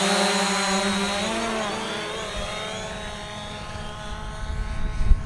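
A Hubsan Zino drone whines in flight, its rotor pitch sliding and wavering as the throttle changes, a steady buzzing drone with a louder gust near the end.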